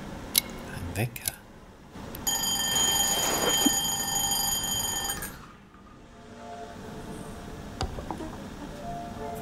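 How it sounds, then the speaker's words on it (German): Alarm clock rings in the video game The Wild at Heart: a steady, buzzing ring lasting about three seconds among game sounds and clicks, then stops; no speech over it. "Wecker."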